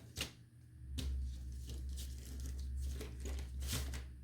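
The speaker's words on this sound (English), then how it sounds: "And then I will get the next part taped in there." Tape is handled and pressed onto a paper Easter fence craft piece: close crinkling and short tearing rustles repeat at irregular intervals over a steady low room hum.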